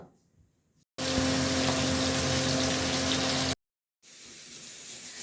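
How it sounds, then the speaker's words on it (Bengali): Fish frying in hot oil in a kadai for a Bengali fish curry: a loud, steady hiss of sizzling that cuts off abruptly, then returns softer after a short silence. "তেলটা ভালো করে গরম করে মাছটা ভেজে নিই"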